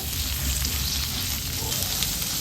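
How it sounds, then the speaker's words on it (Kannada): Capsicum frying in hot oil for an egg chilli dish, a loud close sizzle with a constant crackling hiss and faint stirring underneath, with no voices. "ಕ್ಯಾಪ್ಸಿಕಮ್ ಒಂದು 2 ನಿಮಿಷ ಫ್ರೈ ಆಗಿದೆ."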